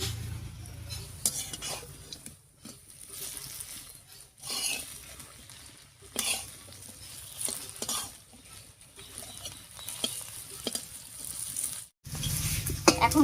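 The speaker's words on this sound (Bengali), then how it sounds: "বড়াগুলো কড়াইয়ে দিয়ে দিয়েছি" Small gondhopata leaf fritters fry in a wok with a soft sizzle, interrupted by light scraping and stirring clicks of a utensil, fairly quiet and close, with no talk.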